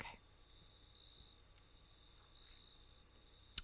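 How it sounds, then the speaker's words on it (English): Faint crickets chirp steadily in The Long Dark, a thin continuous trill under quiet ambient game sound, ending in a small click. "You guys can hear crickets, right?"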